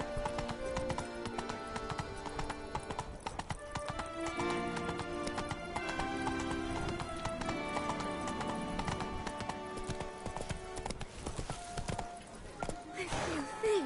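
Horse hooves clip-clopping in The Witcher 3 in the city of Beauclair, a steady rhythmic trot under game music and intermittent speech, with a brief whinny near the end.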